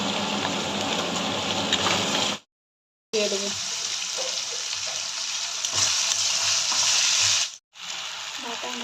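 Capsicum and chopped onion fry in a pan with a loud, dense, continuous sizzle that drops out twice for a moment and then returns.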